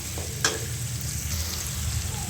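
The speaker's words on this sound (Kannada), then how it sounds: "ಇದನ್ನು ಚಂದಾಗ ಫ್ರೈ ಮಾಡ್ಕೋಬೇಕ್ರಿ" Onions fry in a pan with curry leaves, a steady close hiss and sizzle with a brief stir clatter, no talk.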